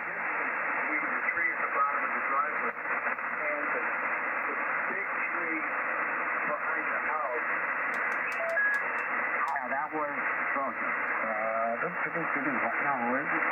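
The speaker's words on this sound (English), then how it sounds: "We're hearing a weak signal right now." Weak ham radio signal heard through a BenQ TrevoloU desktop speaker, a continuous band-limited hiss of static with faint, garbled voice fragments drifting in and out.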